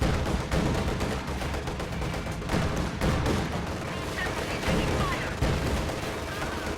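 Continuous battle din in a real-time strategy game around a T-70 tank taking enemy fire, a dense wash of gunshots and booms with scattered sharper cracks, steady and loud throughout, with speech partly mixed in.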